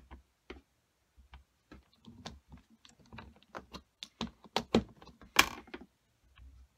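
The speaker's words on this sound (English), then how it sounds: "So I'm going to stamp this down" A rubber stamp pressed onto paper with a Stamparatus stamping tool, a series of sharp light taps and clicks at irregular intervals, close and quiet, with no talk.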